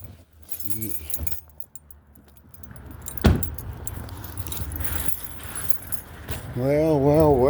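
Keys jangle close by during a car restoration, a bright metallic rattle that comes and goes amid handling noise, with people talking faintly and a vehicle sound rising at the end.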